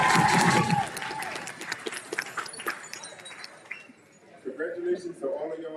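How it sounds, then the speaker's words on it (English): Graduates at a Career Institute CNA graduation ceremony applaud in a dense, steady patter after a voice at the start, and the clapping thins out toward the end. "I want you all to give yourselves a round of applause."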